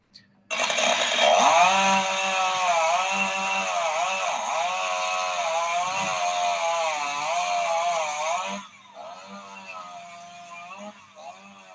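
A loud chainsaw runs steadily and close for several seconds, its pitch dipping as it bites into a rhino's horn during dehorning, then cuts out leaving a faint idle.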